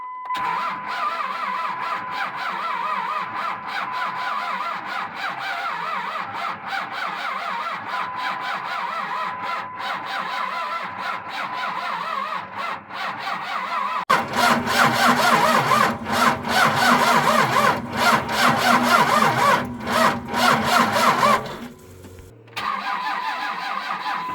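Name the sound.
car engine cranking and starting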